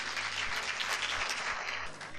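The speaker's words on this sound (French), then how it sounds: "Sous vos applaudissements, s'il vous plaît." A studio audience at a televised word-game final claps to welcome a team onto the stage, a fairly faint, continuous patter of applause with a low hum underneath.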